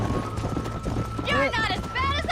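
Hooves of a horse clip-clopping at speed in the Red Dead Redemption video game, a quick rhythmic beat running under overlapping talk, with a whinny-like cry rising over it.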